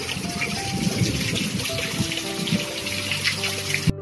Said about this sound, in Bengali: এত বৃষ্টি কোথায় ছিল বাবা, এবার আমাদের ঘরেই জল ঢুকে যাবে।